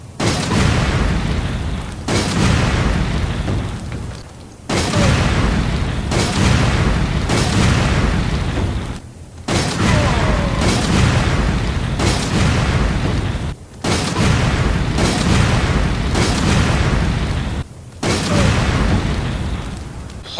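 Flame rounds fired repeatedly at a Big Mama enemy in Resident Evil 5, a series of loud booming blasts in rapid succession, each burst lasting a couple of seconds with brief gaps between volleys.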